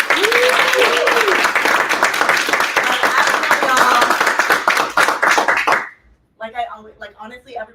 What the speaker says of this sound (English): can we please give a huge round of applause for our judges